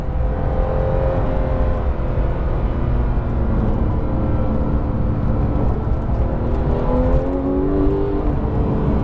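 Porsche 911 991.2 GT3 engine revving hard in manual mode, a loud continuous engine note rising in pitch through the gears, heard from inside the car with no talking.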